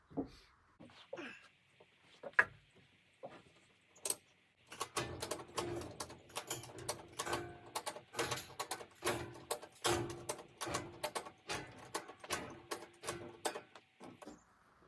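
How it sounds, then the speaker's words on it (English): A hand ratchet cranking to pull a steel I-beam weighing over 2,000 pounds onto a post, rapid repeated metallic clicks in quick bursts after a few scattered knocks, close and fairly faint. "we're gonna try to get the beam up onto here where it's supposed to go by ratcheting it"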